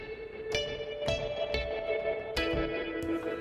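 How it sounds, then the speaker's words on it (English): A synth bass made in the Vital synthesizer pulses with a wobbling wah-wah tremolo, rhythmic swells repeating at a steady pace, washed in reverb and echo. "that wah wah wah wah wah wah kind of tremolo effect is coming from"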